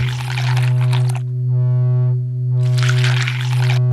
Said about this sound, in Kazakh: Солай Бека асханаға барып су ішеді.